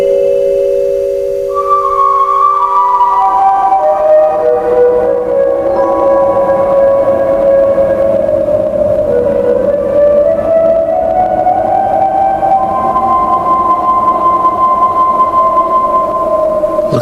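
Trains passing in a radio drama, with long sustained horn-like tones that slide and shift in pitch as they go by. The sound is loud and steady throughout, with no talk over it.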